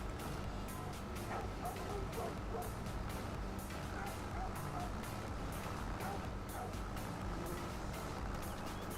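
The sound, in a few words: dog barking in video game Farming Simulator 25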